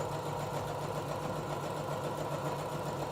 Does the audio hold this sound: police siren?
no